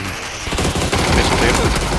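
Rapid automatic gunfire in PUBG bursts out loud and close, dense overlapping shots running almost continuously across the clip.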